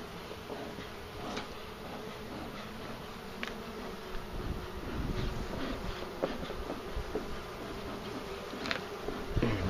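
Honeybees swarm and buzz around an opened hive while someone searches the frames for honeycomb, a steady close drone of many insects with occasional louder passes near the ear, and faint handling knocks underneath.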